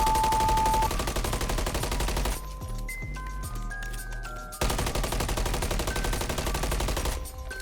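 Rapid automatic gunfire from an MW3 first-person shooter game rattles in loud, dense bursts, with a quieter gap of scattered game sounds in the middle before the firing resumes.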